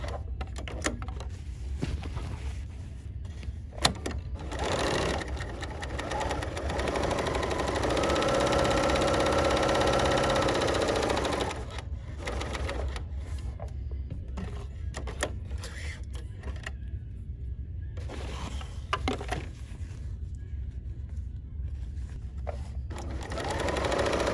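A Bernina L 890 sewing machine stitches plaid fabric in short runs of rapid mechanical whirring, with a longer steady burst in the middle, separated by pauses, handling clicks and thumps, close by.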